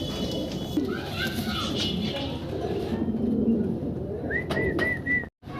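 Pigeons at a seller's collection, including an uncommon-coloured bird, give soft cooing calls close by amid chatter and background voices, with a few higher bird calls near the end.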